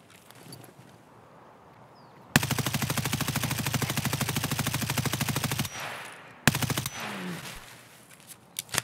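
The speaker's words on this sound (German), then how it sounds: "was für Schüsse" Automatic weapon fire in the game Escape From Tarkov on the Customs map: a long, rapid burst of loud, close shots lasting about three seconds, then a second shorter burst after a brief gap.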